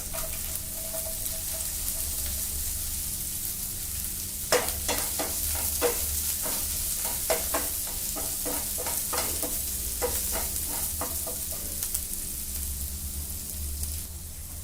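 Onions frying in a pan for a tomato paneer dish, with a constant close sizzle and a run of rapid scraping stirs through the middle, no voices.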